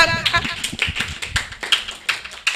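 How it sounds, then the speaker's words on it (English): Clapping at an Igbo summer camp gathering on customary marriage, a small group beating out a quick irregular rhythm of sharp hand claps alongside talk and chanting voices. "Clap your hands."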